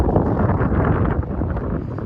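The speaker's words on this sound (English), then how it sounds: "it's windy outside." Loud, continuous wind buffets the microphone with a dense low roar and rumbling gusts, with no other clear sounds, on a street near York University in North York, Toronto.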